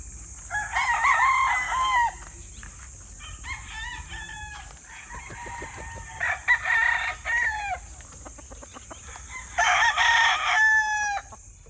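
Black Gilmore gamefowl roosters with straight combs on a gamefarm crow several times, loud and close, with repeated clucking between the crows and no talk.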